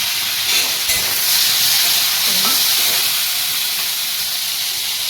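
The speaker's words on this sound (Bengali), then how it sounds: "আমাদের চিংড়ি মাছ কড়াইয়ে চলে গেল গরম হতে" Prawns hiss and sizzle steadily in a hot wok, a broad, continuous frying noise close by that holds for the whole stretch, with a faint low tone briefly rising beneath it.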